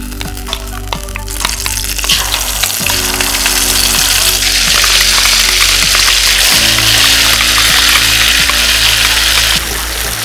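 Ground paste dropped into hot ghee sizzles loudly and steadily, a dense continuous frying hiss that grows brighter after a few seconds, with occasional clinks and stirring underneath and no talking.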